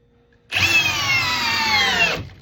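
A power drill in drill mode at speed 2 starts abruptly and whines at a steady high pitch for under two seconds as it drives a screw into wood, then stops; no speech.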